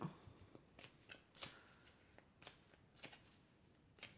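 Tarot cards are handled, shuffled and drawn close by in a quiet room, with soft repeated flicks and light riffles coming in short bursts.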